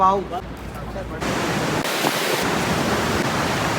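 The Alaknanda river roars at the Vishnuprayag confluence as a loud, dense, continuous rush of turbulent water close by, with wind buffeting the microphone at the start.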